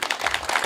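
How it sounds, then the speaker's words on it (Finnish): Brief applause greeting the newly named Unikeko at the Heinola sleepyhead festival, a short patch of scattered outdoor clapping. "Valtaiset aplodit hänelle."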